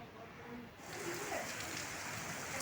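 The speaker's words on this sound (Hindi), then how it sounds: "ये देखिए बिल्कुल झमाझम बारिश हो रही है।" Heavy outdoor rain sets in as a dense, steady hiss that swells in loudness after a quieter start, with no words spoken.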